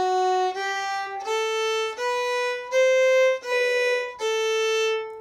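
A stringband fiddle plays a phrase of the tune Glory in the Meeting House: about seven clear bowed notes that step up and down in an even rhythm, close and alone, with no talking.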